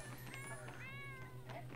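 A cat meows in The Sims 4 with a few short, faint cries rising and falling over a low steady hum, with no other sounds standing out.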